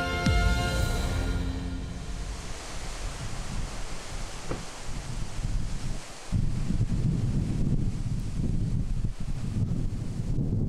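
Wind on Jeju island, a steady broad roar buffeting the microphone and rustling vegetation, swelling and easing slightly, with a brief lull midway.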